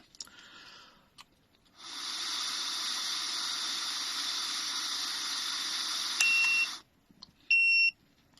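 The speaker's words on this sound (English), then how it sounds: "you can blow until you hear the beep" A long steady airy hiss of breath blown into a fuel cell breathalyser, then two short high electronic beeps close together at the end, like a device signalling completion.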